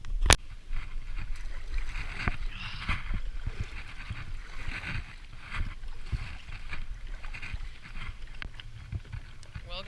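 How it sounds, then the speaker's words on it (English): A kayak moves across open water on a fishing outing, with steady low water wash and soft paddle-like splashes throughout, plus light wind noise at close range. "Now we're gonna go out on the kayak"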